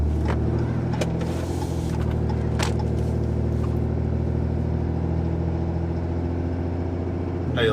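Ram 2500 Cummins pickup truck cruising along, its diesel engine droning steadily at close range with harmonic tones that shift slightly as it changes gears, and no talking.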